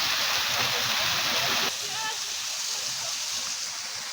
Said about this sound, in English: Not sure how well the audio is going to come in with the waterfall right next to me.